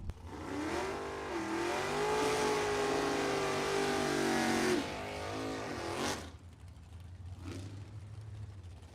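Opel drag car accelerating hard down the right lane of the strip at a bracket drag racing event, a loud rising engine roar with gear changes that fades away, followed by a brief second burst.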